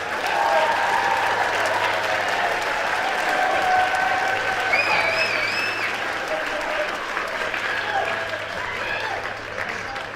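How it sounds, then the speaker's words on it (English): A school band concert audience gives a steady, full round of applause for the graduating senior band members, with some cheering mixed into the dense clapping across the whole stretch. "Can we give our seniors one more round of applause?"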